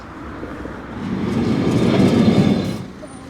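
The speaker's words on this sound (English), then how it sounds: "we're going to try to cross where the trams are passing by" A tram rolls along its street tracks in Lisbon at night, a rumbling roar that swells to a peak midway and then fades as it passes close by over general city background noise.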